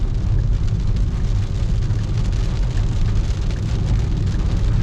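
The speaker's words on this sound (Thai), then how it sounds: "ฝนตก" Steady rain falls in a dense, even hiss of drops on surfaces, close and fairly loud, unbroken throughout with no voices, near Chong Mek in Ubon Ratchathani.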